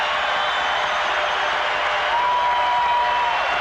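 Home crowd at Carver-Hawkeye Arena on their feet cheering during a 1995 Iowa versus Michigan State basketball game, a dense, sustained roar of applause and yelling filling the arena at constant loudness.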